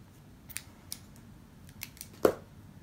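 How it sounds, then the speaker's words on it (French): Scissors snipping crochet yarn, a few faint, close, crisp snips ending in one sharper cut, in an otherwise quiet room. "À ce stade, je peux couper le fil"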